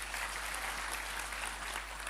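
A church congregation claps together at a Sunday service, dense and even applause that holds steady at a moderate level from start to finish.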